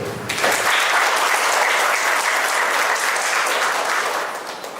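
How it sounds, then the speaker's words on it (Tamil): A crowd at a bike launch event in Nilaveli for Avant Signature bikes bursts into dense, sustained applause that holds steady for several seconds before tapering slightly. "ஒரு கைத்தட்டு."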